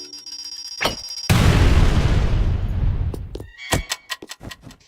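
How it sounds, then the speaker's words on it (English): A video game explosion sets a hanging chandelier swinging from the shockwave: a sharp boom erupts and rolls into a long decaying rumble, followed by scattered metallic clinks and rattles as the fixture settles. "The chandelier is basically a background object that gets bounced around from the explosion's shockwave."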